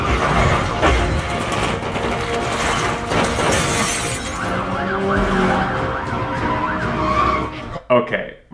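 Loud, busy movie scene mixing wailing police car siren sweeps with crashes, traffic and a shattering impact, ending in a brief abrupt cut with a few bursts.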